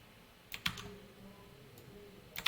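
Typing on a computer keyboard during a coding session: two short bursts of quiet key clicks, close and alone over a low background hum, with a pause between them.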